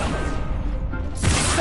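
A Confringo spell blast in a video game: after a quieter stretch, a sudden loud burst erupts and carries on as a broad rushing roar to the end.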